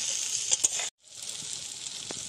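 Chopped tomato goes into onion already fried with chili powder in a pan. A close sizzle cuts to near silence for a moment, then a steady hiss of frying builds back up.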